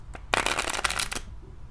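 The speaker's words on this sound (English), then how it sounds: "So riffle halfway down, grab, flip upside down, be ready in your shuffle position." Playing cards riffle shuffled by hand, a dense burst of rapid flutter-clicks lasting about a second after a single soft tap, close and fairly quiet, with no talking.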